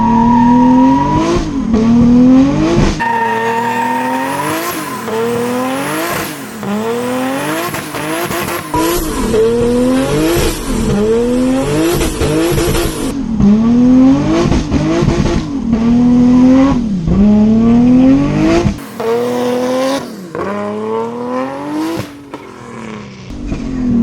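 Turbocharged Nissan R33 Skyline engine revs hard and accelerates through repeated gear pulls, loud and close, pitch climbing and dropping with each shift, with brief tire squeal.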